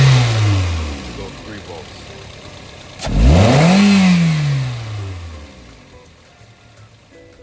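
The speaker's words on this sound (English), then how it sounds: "Now once we goose the throttle," Car engine revs up sharply as the throttle is pressed, then drops back toward idle, loud and close, with someone talking over the idle before and after.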